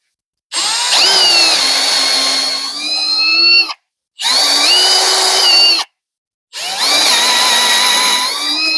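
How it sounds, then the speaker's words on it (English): Three bursts of a power drill whining at high speed while drilling holes in a BMW E30 steering knuckle, each lasting a few seconds with short silent gaps between them, loud and close. "when I drill in here, I'm not drilling into my vise"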